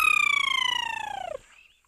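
A person whistles an imitation of a woodland kingfisher's call: one long, clear, high tone sliding steadily downward with a fast pulsing trill, close and loud, ending in a short faint tail.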